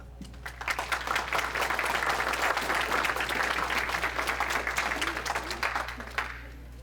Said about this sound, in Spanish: Un aplauso para el doctor Andrés García Floriano.